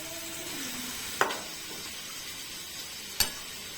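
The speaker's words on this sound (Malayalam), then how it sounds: "എല്ലാ കൊഞ്ചും ഫ്രൈ ചെയ്യാനായിട്ട്" Prawns frying in hot oil for a biryani make a steady soft sizzle, with two sharp clacks of stirring or a utensil striking the pan.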